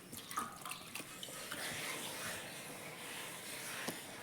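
Water running and splashing over a stone grinding slab as it is washed, a steady close rush and hiss with a few faint knocks, no talk.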